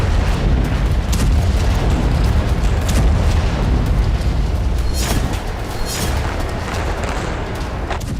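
Continuous heavy rumbling and repeated booming blasts from shelling near the Indonesian hospital in Gaza, loud and dense throughout with sharp bursts standing out over a constant roar.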